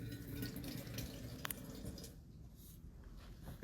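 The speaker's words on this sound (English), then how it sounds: "This is just gonna give them a quick little rinse here" Seeds being rinsed under water, with a steady wet trickle and soft splashing and drips, one brief sharper splash midway, quiet and close with no voices.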